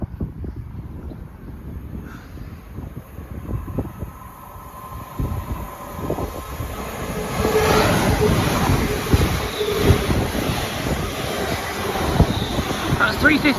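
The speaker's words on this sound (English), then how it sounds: "passing through now is a London Northwestern Railway service from Birmingham New Street to Liverpool Lime" A London Northwestern Railway passenger train from Birmingham New Street to Liverpool Lime Street passes through Tipton station. A steady rumble swells and holds as it goes by, with some wind noise and a voice speaking over it.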